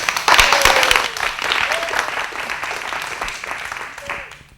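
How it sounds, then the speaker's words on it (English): A crowd breaks into applause, loud at first and gradually thinning out, with a few louder individual claps standing out in the mix. "let's give a big round of applause for Carolyn."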